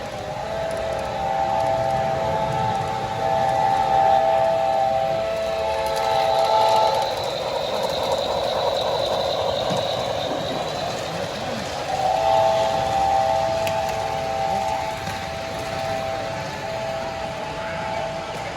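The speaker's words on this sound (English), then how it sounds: "we have a Santa Fe forward leading a passenger train coming across the bridge" An HO scale model Santa Fe locomotive leads a passenger train across a layout bridge at a model train show, its sustained multi-tone horn sounding in long blasts over a rolling rumble and crowd murmur.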